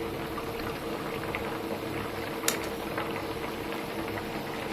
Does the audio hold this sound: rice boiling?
yes